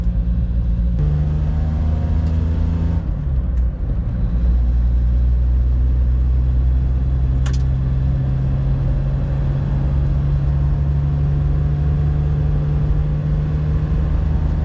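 A small camping vehicle's engine held at half throttle near 3,000 RPM through a performance exhaust with a leak, a loud, steady droning note close by that shifts slightly early on, then holds alone without talk.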